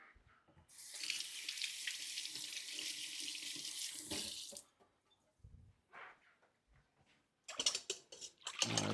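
Running tap water pours into a kitchen sink for several seconds while an item is rinsed during takoyaki batter preparation, then quiet handling clatter and a second short gush of water.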